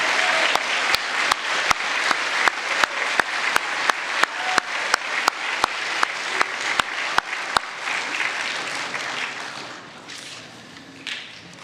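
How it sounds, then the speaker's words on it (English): An end-of-school awards day audience applauds A honor roll students, dense clapping with a loud, regular single clap repeating near the microphone for about seven seconds, then the applause thins and fades out. "Let's give a round of applause to all those with the A honor roll."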